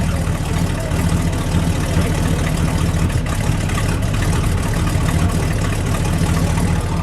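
A 1971 Chevrolet Monte Carlo SS with a 454 V8 idling cold, a loud, close, continuous rumble with a slightly uneven lope and no talking over it.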